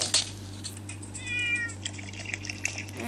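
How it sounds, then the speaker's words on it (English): A cartoonish cat meow from the video game PK XD, one bright drawn-out call in the middle, surrounded by clicky game sound effects and a steady low hum. "I'm gonna leave my cat alone."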